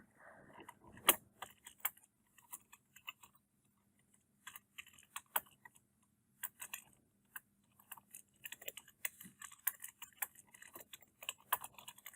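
Typing on a computer keyboard comes in bursts of crisp key clicks, close and fairly quiet, with short pauses between runs of taps and no talking.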